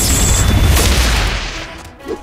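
Rapid burst of video game gunfire in a fighting game, loud booming shots packed tightly together, fading toward the end with one last thud.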